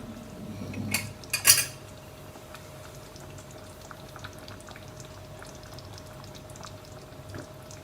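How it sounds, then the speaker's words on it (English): A pot of Anglo-Indian lamb brown stew simmers gently, faint bubbling and tiny pops under a couple of sharp metal clinks of a spoon against the pot early on, then quiet steady bubbling. "So let this simmer for a few minutes because we don't want the flour to taste."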